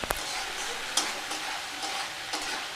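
Spice paste fries slowly in oil over a low flame for a vegetarian jackfruit curry. It makes a faint, steady sizzle broken by a few soft stirring clicks, with no voices.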